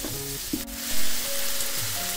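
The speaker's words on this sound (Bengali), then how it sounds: "খুব ভালোভাবে সব কিছু মিশিয়ে নিয়ে আমি আরও 1 মিনিট সব কিছুকে ভেজে নেব।" Fried rice with added sugar frying in a pan, a steady close sizzle with a single sharp clink from a utensil, no speech.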